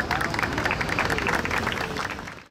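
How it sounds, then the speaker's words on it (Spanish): A crowd at the unveiling of giant city-name letters in Ciudad Valles claps in sustained, dense applause mixed with some crowd chatter, tapering off at the end. "Ahí está el aplauso."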